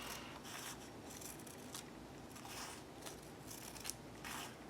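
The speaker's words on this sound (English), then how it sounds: "And I'm going to cut this in half." Foil-finished paper on an altered book page is cut in half with scissors, a series of soft, close snips and rasping rubs spread over a few seconds, quiet and without speech.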